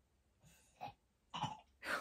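A dog clears its throat in three short, raspy bursts spaced about half a second apart, close by and fairly quiet, with no talking.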